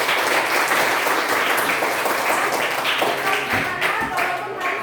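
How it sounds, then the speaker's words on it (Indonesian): A classroom of students claps for themselves, a dense, steady burst of applause filling the whole stretch at close range, with a little faint talk mixed in. "Tepuk tangan untuk diri kita sendiri."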